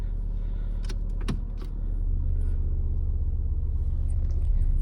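A car idling and rumbling low as it's put in motion to back out after the parking brake is released, with a few brief clicks and rattles early on before the engine drone steadies.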